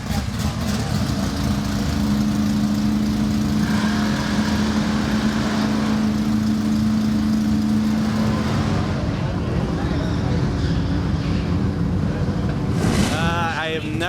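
A Top Fuel dragster engine at Bandimere Speedway runs loud and close in a steady, rumbling drone, with people talking over it.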